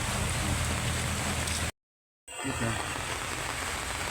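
Steady rain falling in Mindanao, a dense continuous hiss that cuts out into silence for about half a second, then resumes just as steady and close.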